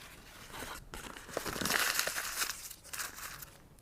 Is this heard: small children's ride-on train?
no